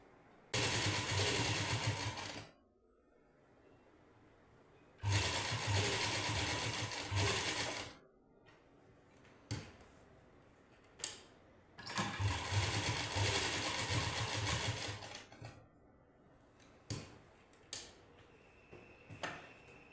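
A sewing machine stitching a seam on a puff sleeve runs in three long, steady, whirring bursts separated by pauses, with soft clicks and handling noises between runs.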